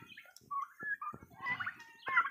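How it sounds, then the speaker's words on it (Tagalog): Turkeys gobble close by in quick, overlapping bursts, a chattering, warbling flock with no voices. "Grabe itong mga pabo na to."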